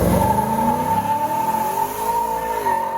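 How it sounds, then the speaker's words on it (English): A cammed LS V8 car doing a burnout: loud, continuous engine roar with a strong steady tone and shifting revs, close and alone for about three seconds, no voices. "Solid burnout."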